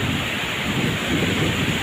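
Ocean waves wash in a continuous broad roar, mixed with buffeting wind against the microphone, near a boat trying to land.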